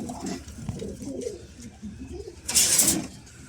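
Pigeons coo softly and repeatedly in low, rolling murmurs close by, with a brief burst of rustling or wing flutter partway through.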